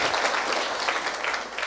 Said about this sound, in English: Please give the Prime Cabinet Secretary a clap.